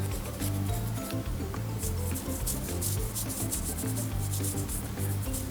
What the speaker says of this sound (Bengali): ওই ব্রাশটাই বসে নিচ্ছি, জাস্ট ব্লেন্ড করে দিচ্ছি